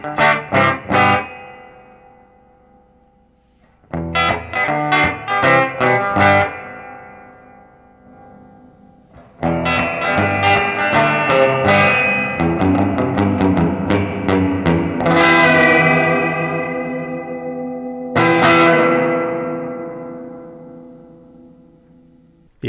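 An electric guitar played through a small 5-watt retro tube amp built into a vintage radio rings out in strummed chords and bursts of picked notes, with long reverb tails and lightly distorted sustain between pauses.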